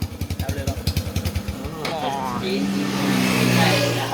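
A modified Honda Wave 125i LED motorcycle with M Speed Thailand parts starts up close by. A rapid cranking pulse is followed by the engine catching and settling into a steady, loud idle.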